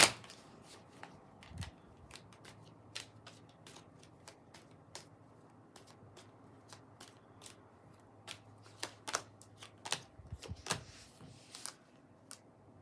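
Trimmed, borderless Llewellyn Tarot cards being shuffled in a rapid run of crisp riffling flicks and soft slaps, close and fairly quiet, with no talking.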